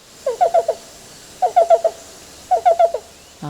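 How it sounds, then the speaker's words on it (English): A black-billed cuckoo calls in three clear, evenly spaced bursts, each a quick series of four or five soft, hollow cooing notes, close and loud against a quiet background. "one of my very favorite birds, which is the black-billed cuckoo"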